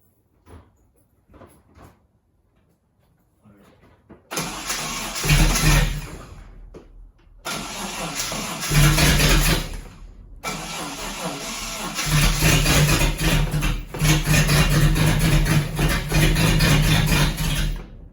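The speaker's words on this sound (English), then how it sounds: "I turned it over and it popped, so I think it's going to start" Cranking and catching, a Datsun 260Z engine turns over and briefly runs, coming up as loud close roaring stretches broken by short gaps after a few quiet seconds at the start.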